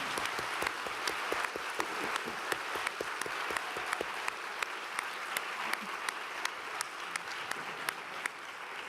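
Audience applause after a poetry lecture, a dense steady round of many hands clapping that holds evenly throughout with a few sharper individual claps standing out.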